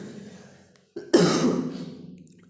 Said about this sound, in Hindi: सॉरी खांसी आ गई अपन को